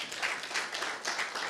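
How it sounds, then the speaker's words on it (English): A forum audience at an academia, public and private partnership event gives a short round of applause, steady, dense clapping at moderate distance with no voices on top. "Can we clap for them?"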